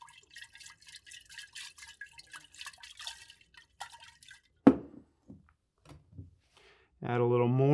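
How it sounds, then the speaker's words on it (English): Water is added to powder to make a solution in a lab setting, with soft, irregular drips and small splashes, a louder clink near the end and a brief steady pour as the container fills. There is also some speech. "Now I'll add a little bit of water so that I can start the mixing process."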